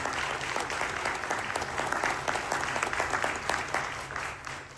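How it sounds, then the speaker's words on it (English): An audience at a county housing panel discussion applauds, dense steady clapping from many hands that fills the whole stretch and tapers slightly at the end. "Can we give the panel as a whole a round of applause?"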